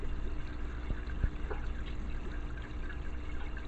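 A submersible aquarium power filter rated for tanks up to 10 gallons churns and pours water steadily, a continuous close splashing trickle with faint drips, no voices.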